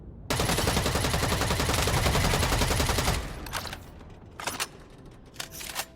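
Rapid automatic gunfire from a gun in the sci-fi shooter EVE Vanguard: a dense, loud, continuous burst for about three seconds, then a few short separate shots and clicks.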